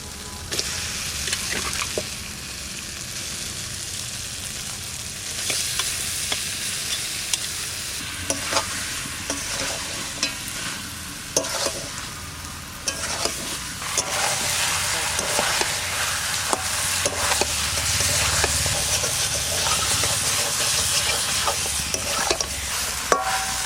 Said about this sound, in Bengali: মাংসটা প্রায় কষানো হয়ে গেছে